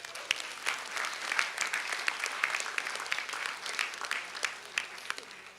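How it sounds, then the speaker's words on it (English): A room of attendees at a university public lecture claps for several seconds, many hands with distinct individual claps standing out, moderately loud and without speech over it. "Let's give yourself a very big round of applause, everybody."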